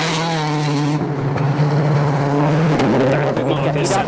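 A Citroën C4 WRC rally car drives hard along a stage, its engine holding a loud, steady roar with gear changes and revs shifting, heard under a commentator's talk.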